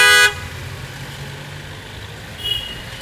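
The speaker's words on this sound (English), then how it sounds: "they honk like crazy" A short, loud car horn blast at the start on a Kolkata street, India, then low traffic hum and a fainter honk a few seconds later.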